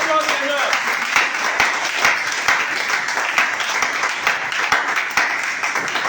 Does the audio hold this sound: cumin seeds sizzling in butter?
no